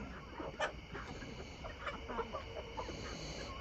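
Chickens in a backyard coop at night while settling onto new homemade roosting bars, giving soft, scattered clucks and murmurs at low level, with a couple of slightly louder calls standing out.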